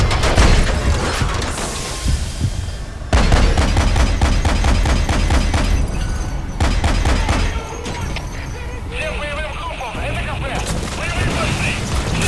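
Rapid automatic gunfire and booming explosions in the stealth action game Metal Gear Solid V: The Phantom Pain, loud dense bursts of shots with heavy impacts, punctuated by brief pauses and mechanical clatter.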